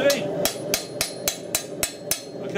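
A small hammer strikes a knife blade at a forge, about eight sharp metallic blows in a steady, even rhythm, close and loud, each ringing briefly before the next.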